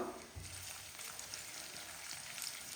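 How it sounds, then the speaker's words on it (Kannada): Crushed garlic fries in oil for a garlic chicken dish, a faint, even hiss of sizzling that holds steady throughout. "ಇದನ್ನು ಕ್ಲೀನಾಗಿ ಈ ರೀತಿ ಫ್ರೈ ಮಾಡ್ಕೊಳ್ಳೋಣ ಈ ಆಯಿಲಲ್ಲಿ"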